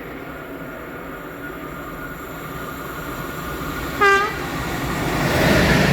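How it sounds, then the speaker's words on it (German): A freight train rumbles past at Guntramsdorf-Thallern with a steady, loud roll and clatter, and a single short horn blast cuts in near the end, with no talking. "Güterzug."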